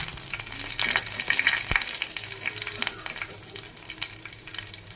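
Dried red chillies and cumin seeds sizzle and crackle in hot oil in a home kitchen, a steady close frying hiss with a few sharper pops and occasional stirring clatter.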